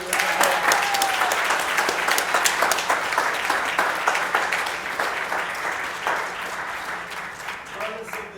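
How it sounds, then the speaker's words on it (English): An audience at a student pitch event on Oahu claps steadily for the competing teams, a dense, sustained round of applause that slowly fades, with faint voices mixed in. "Can we get a round of applause for each of the teams?"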